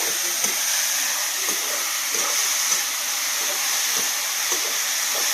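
Wild jungle mushrooms fry in a little oil, giving a continuous close sizzling hiss dotted with faint soft pops and crackles.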